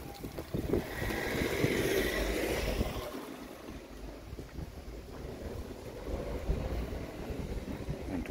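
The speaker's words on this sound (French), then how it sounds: "Oh, il y a du vent." Wind gusting across an open mountainside on Mont Ventoux in Provence, a broad rushing roar buffeting the microphone, strongest in the first few seconds and then easing to a steady blustery wash, with no talk.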